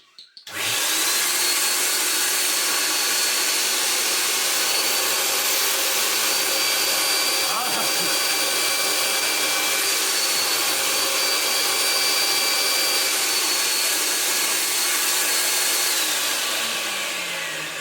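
A 1982 Hoover Powervac Wet&Dry S4266 vacuum cleaner runs on suction, starting abruptly and holding a loud, steady whining roar for over fifteen seconds, with no voices over it.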